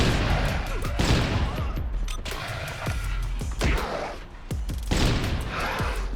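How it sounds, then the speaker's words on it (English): Repeated heavy explosive gunshots from the Lawgiver pistol in the 2003 comic shooter Judge Dredd: Dredd vs Death, a rapid series of loud booming blasts with crashing impacts, dense and continuous over game ambience. "I do get to show off the Lawgiver's explosive shot though, just a beast of impact, sending bodies flying."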